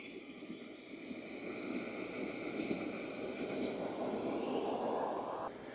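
A Eufy S2 Omni robot vacuum dock auto-empties its dustbin with a steady, rushing airflow roar that holds constant for several seconds, fairly close and with no talking.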